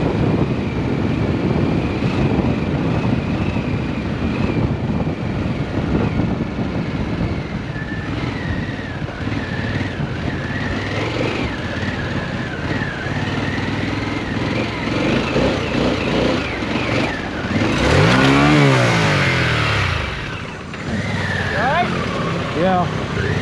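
A Harley-Davidson Pan America 1250 Special motorcycle is ridden, its engine droning steadily under wind noise, rising in a louder surge of acceleration near the end, while a rider talks over it.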